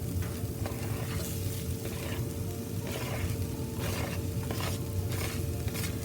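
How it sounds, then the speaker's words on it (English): Onions and mushrooms sizzle in a pan, a soft steady frying hiss with intermittent stirring scrapes, fairly quiet and close with no talking. "Now the onions are starting to brown up, so I'm going to go ahead and put in my mushrooms."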